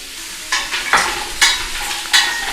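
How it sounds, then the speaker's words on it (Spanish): Vegetables for pumpkin soup cooking in a hot pan with no fat, stirred now and then: a soft steady sizzle with four sharp scraping bursts of the spoon roughly every half second to second, close and alone. "estas verduras ahora se van a guisar, es decir, como si fuera sofreír"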